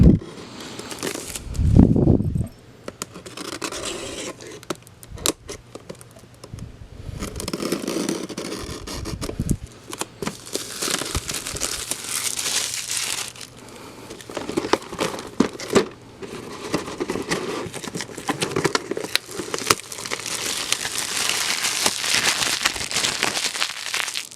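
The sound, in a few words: hobby knife cutting model kits out of crinkly plastic wrapping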